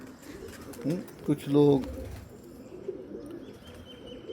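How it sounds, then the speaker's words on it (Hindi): A golden red-eyed pigeon gives a few soft, close coos in a short burst amid faint outdoor background, with a brief human voice heard quietly nearby. "ये मेरे पास गोल्डन कबूतर है, लाल आंख वाला।"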